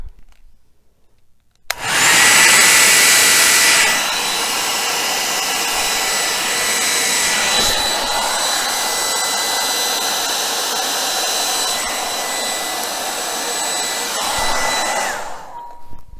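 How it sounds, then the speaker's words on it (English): An air blower runs steadily to push acrylic paint across a small canvas, a loud close whoosh that starts abruptly, stays even for about thirteen seconds with a high whine on top, and then cuts off. "It's so hard for me to blow a small canvas now"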